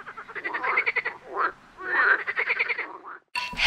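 A frog croaks in close, raspy bursts of rapid pulses, two long runs split by a short pause, then a sudden cut to silence and a brief different noise at the end.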